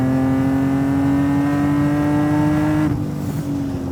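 An 850+ hp BMW M Coupé engine pulling hard at 4,500 RPM under acceleration, a loud, close, steady harmonic roar that drops slightly near the end.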